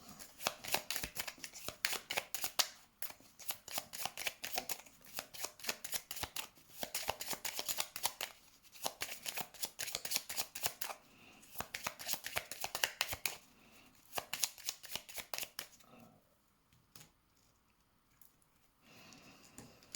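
Tarot cards being shuffled by hand in rapid, continuous riffling bursts with brief pauses, close and crisp, fading to quieter handling near the end.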